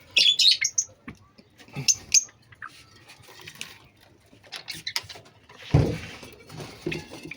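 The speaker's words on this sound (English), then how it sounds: "It's Australian parrots." Australian parrots chirping and squawking close by in a bird enclosure, with clusters of sharp, high calls separated by brief pauses and a louder rough squawk near the end.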